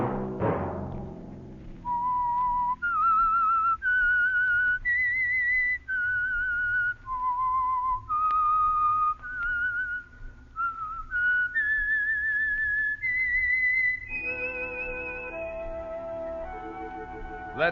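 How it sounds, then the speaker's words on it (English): A lone whistler performs the eerie theme of The Whistler radio program, clear sustained notes rising and falling in a slow melody, then an orchestra swells in at the end. "Let that whistle be your signal for the Signal Oil program, The Whistler"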